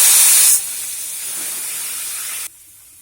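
Spices hit hot oil with mustard seeds and cumin in a pan for Bihari-style egg curry, giving a loud, close, hissing sizzle that eases after half a second and then cuts down sharply near the end.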